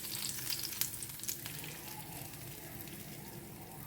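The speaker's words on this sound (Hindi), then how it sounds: "अब ना इसमें तड़का देते हैं।" Hot garlic tadka tempering sizzles as it is poured into palak paneer, a soft steady frying hiss with sharp crackles and pops near the start that settle into a quieter sizzle, with no talking.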